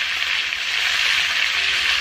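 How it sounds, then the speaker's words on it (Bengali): Fish heads fry in oil over a clay stove, giving a loud, dense, continuous sizzle up close with no voices. "মাথাগুলো ভাজি করবো মাটির চুলায়,"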